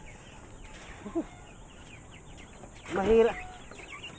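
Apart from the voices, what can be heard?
geese and ducks fighting, farm fowl calls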